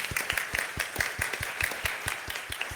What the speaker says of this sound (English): can we actually give Honey and Pedro a round of applause